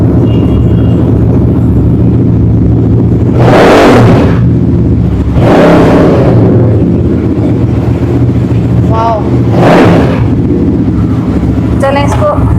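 A heavy sports motorcycle engine starts, rumbles steadily at idle and is revved hard in three separate loud bursts, close up.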